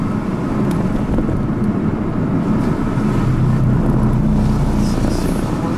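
A Porsche passes at night on a city street, a steady broad engine and road roar holding loud throughout, with no clear rise or fall and no talk.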